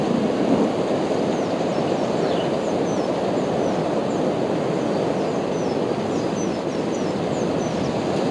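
Steady heavy flood rain pours down in a dense, continuous roar, with a low rumbling undertone like distant thunder; no voices.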